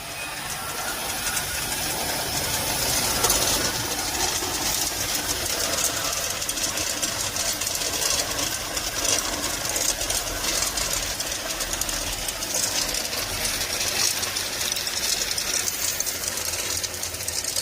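A 5 ton per day tube ice machine runs on a factory floor, making a steady dense mechanical rumble and hiss with a faint rhythmic knocking throughout, loud and continuous with no talking.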